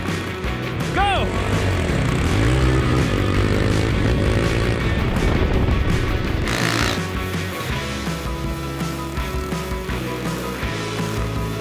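Dirt bikes, a Yamaha WR450F and a KTM 890 Adventure R, race on a motocross track, engines revving loudly and continuously throughout with a brief burst near the middle, while a voice talks over them.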